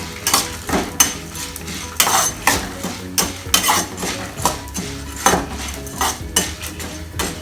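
Dried red chillies tumble into a hot pan with a bengal gram chutney base, giving a run of sharp clinks and rattles against metal, repeated at irregular intervals over a steady low kitchen rumble.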